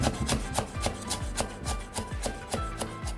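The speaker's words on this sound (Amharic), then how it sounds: "አድቀን እንከትፈዋለን።" A knife chops parsley on a board for chicken sandwich filling, a steady run of sharp, close taps at a quick, even rhythm with no voices.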